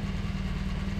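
A BMW R1200GS motorcycle engine idles warm at low volume, a steady low rumbling throb with no talk over it.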